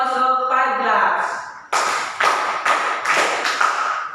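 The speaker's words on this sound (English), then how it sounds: "Give me also 5 claps" Students clap five times in a quick, even sequence of sharp, loud claps that follows a spoken voice at the start.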